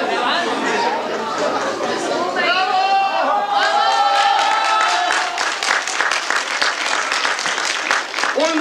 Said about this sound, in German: Bravo, bravo, bravo. Applaus.